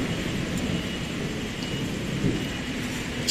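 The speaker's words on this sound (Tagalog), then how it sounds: "Grabing kidlat na yun." Thunder rolls as a continuous broadband rumble during a rainstorm with lightning, steady and fairly loud throughout with no speech.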